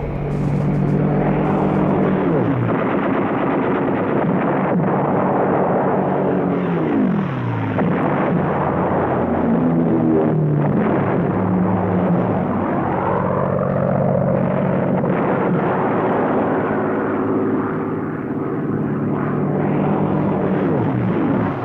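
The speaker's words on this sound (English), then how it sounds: "Dozens of Allied planes are destroyed or severely damaged." WWII Allied aircraft in air combat produce a loud, continuous propeller-engine roar whose pitch rises and falls as planes sweep past, with no speech.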